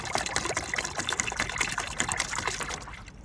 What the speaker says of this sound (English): you can see all the different ways the water squirts out.